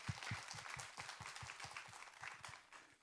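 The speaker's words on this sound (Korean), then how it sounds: "우리 하나님께 영광의 박수 올리도록 하겠습니다." A church congregation claps in praise during a worship service, a quiet but steady patter of many hands with some distinct individual claps standing out, continuing for about three seconds without speech.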